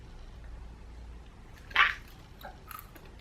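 A single close, sharp crunch of teeth biting into a tarantula stands out against quiet room tone, followed by a few faint softer chewing sounds.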